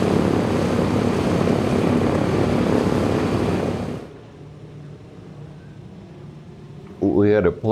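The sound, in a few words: B-17 Flying Fortress four-engine propeller bomber taking off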